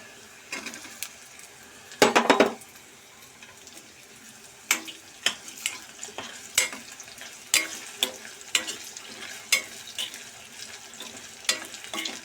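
Potatoes tipped into a pan of onions frying over a high gas flame, with a sharp burst of clatter and sizzle around the addition, then steady frying and scattered scraping strokes of stirring, close and clear.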